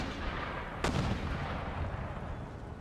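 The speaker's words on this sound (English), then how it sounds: "So one mortar round landed plumb on one of our guns." A mortar round from Empire Total War lands in a single sharp, heavy blast, loud and close, over a constant roar of battlefield ambience, with no voices.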